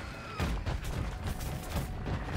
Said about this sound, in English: Explosions galore